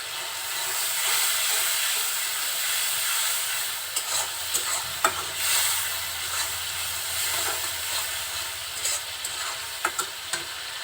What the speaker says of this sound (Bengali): মশলাটা খুব সুন্দরভাবে কষিয়ে নিব।